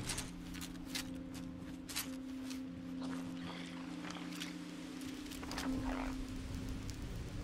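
Frog croaking in the video game Fallout 76, a steady low croak running under faint game ambience with a few brief sharp clicks and shuffles.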